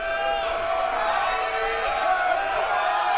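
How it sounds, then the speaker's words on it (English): Large crowd at a sumo tournament cheering and roaring loudly and continuously, with overlapping shouts and whoops throughout. "I'm sure you can hear the crowd go absolutely crazy for these men"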